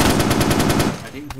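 Rapid automatic gunfire in the video game DayZ, a fast burst of close, loud shots that stops abruptly, followed by a brief quieter tail.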